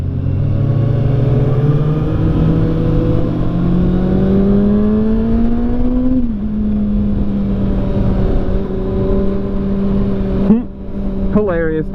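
A Kawasaki ZX6R sport bike engine drones loud and steady on a test ride, pitch climbing slowly then dipping and holding, with a sharp shift blip near the end; wind rush runs underneath throughout.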